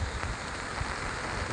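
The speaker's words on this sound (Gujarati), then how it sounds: "આટલો વરસાદ પડી ગયો છે અત્યારમાં" Heavy rain falling in a Gujarat village where floodwater has reached the roads and homes, a dense, even hiss of drops striking surfaces, quiet and continuous with no talk.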